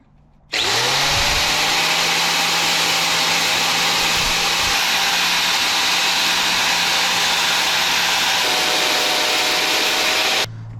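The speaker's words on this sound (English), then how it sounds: "sand off the paint along both edges" A power sander grinds paint off the edges of a 40mm ammo can, a steady loud whine running continuously for about ten seconds with a slight pitch drop near the end, then stopping.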